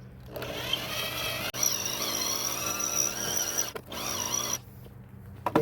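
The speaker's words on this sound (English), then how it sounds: "Yeah, it ain't cutting anymore, it's just grinding." Dull drill bit grinding instead of cutting during a small-engine side project, a steady whining drone with stops and restarts, close by and without talk.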